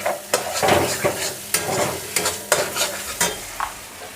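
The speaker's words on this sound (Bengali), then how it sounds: "মশলাটা একটু কষিয়ে নিই।" Cumin powder and spice paste fry in mustard oil for a mixed vegetable curry, a steady close sizzle broken by repeated scraping stirs of a spoon against the pan.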